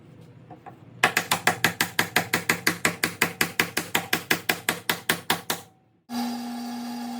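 Glued wooden wedges are hammered into a wooden mallet handle with a fast, even run of about twenty loud, sharp knocks. They stop abruptly, followed by a steady hum.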